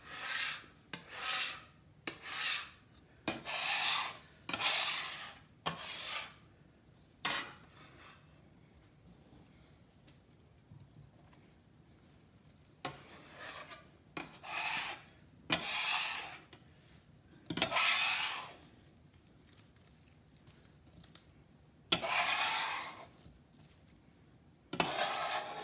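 A cloth wipes grease off a wooden cutting board used for carving baked ham, making soft rubbing and scraping strokes in irregular bursts with quiet pauses between, close and faint, with no talk.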